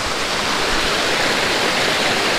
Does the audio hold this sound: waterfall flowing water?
yes